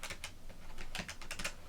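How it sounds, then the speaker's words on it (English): Calculator buttons are pressed in a quick run of light, crisp clicks, heard close and quiet in a calm setting while football cards are being priced. "we of course like to bring a calculator just to get the"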